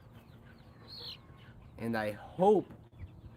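Chickens on a farm cluck and call in short bursts, close by, with a person speaking briefly among the bird sounds.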